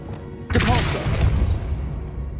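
A Depulso force-push spell cast in the Hogwarts Legacy video game lands as a sudden whooshing burst with a booming thump and scattered crashing debris, then rumbles and fades over low game ambience.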